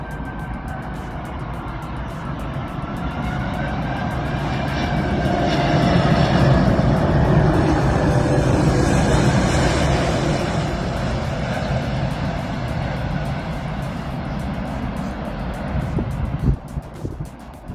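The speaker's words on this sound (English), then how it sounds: "Witness a British Airbus A380 shaking a neighborhood to its core." A British Airbus A380 passes low over a residential neighborhood, its deep engine roar swelling to a loud peak midway and then slowly fading, with no voices.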